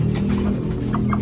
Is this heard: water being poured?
no